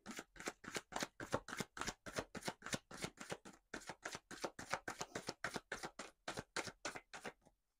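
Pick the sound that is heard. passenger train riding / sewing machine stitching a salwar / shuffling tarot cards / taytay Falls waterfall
shuffling tarot cards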